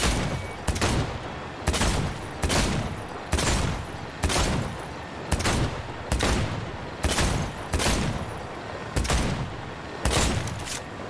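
Rhythmic gunfire at a shooting range in Cyberpunk 2077, about a dozen sharp, loud shots spaced evenly roughly a second apart, each ringing out briefly before the next.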